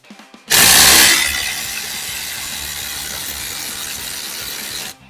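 A Greenworks power tool set to speed 3 drives a 3/8 by 6-inch Spax screw into wood. It opens with a loud, gritty burst, then holds a steady motor whine for several seconds before stopping abruptly.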